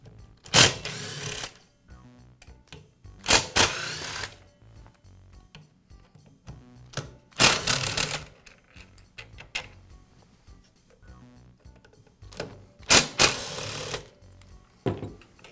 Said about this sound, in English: Now I'll remove the 4 screws that secure the motor housing.